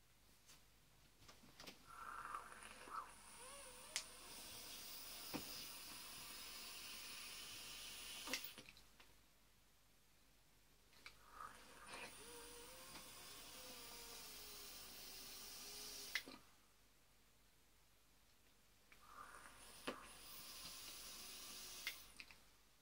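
An e-cigarette with a parallel-wound 28 gauge kanthal coil hisses and sizzles in several long drawn-out pulls separated by quiet gaps, faint and close.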